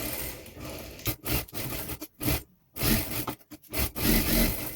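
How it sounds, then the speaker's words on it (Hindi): A sewing machine stitching the lining of a full-sleeve blouse back neck runs in close, loud bursts of rapid mechanical whirring, separated by short stops, with no talking. "यहाँ पर नेक वाले पार्ट से लेकर यहाँ पर पूरे में सिलाई करनी है।"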